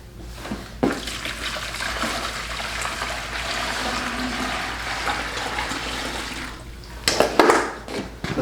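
Liquid is poured into a container, making a continuous close splashing trickle that swells and fades. Sharp knocks and clatters come at the start and again near the end.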